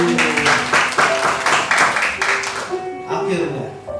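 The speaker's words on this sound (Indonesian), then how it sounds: "Tepuk tangan dong buat kita." Applause from a church congregation during an Indonesian worship service, a moderate run of clapping with a voice speaking over it and music lingering in the background.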